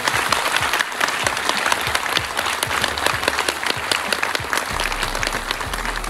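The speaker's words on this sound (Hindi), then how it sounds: "आप सभी महिलाएं और जोर से उनके लिए ताली बजाएं।" Women applauding at a Makar Sankranti women's honour event held by a cultural foundation in Uttarakhand, a thick, continuous burst of close, loud clapping lasting several seconds, with a low hum rising near the end.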